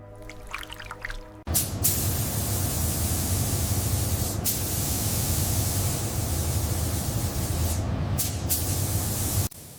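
A spray gun lays metallic Le Mans blue paint onto a 1970 Ford Mustang Boss 429 in a loud, close, continuous hiss lasting about eight seconds. The spray is broken by a few brief pauses and stops sharply.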